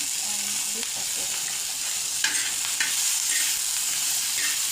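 Onion frying in hot oil in a pan, a constant hissing sizzle with occasional light stirring clicks, fairly close and even, with no voices.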